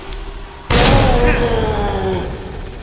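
A single heavy grenade blast in Resident Evil 2 Remake bursts suddenly and loudly, then its rumbling tail slowly fades away while game sounds carry on underneath.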